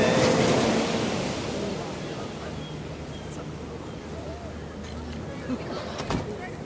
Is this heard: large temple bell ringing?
no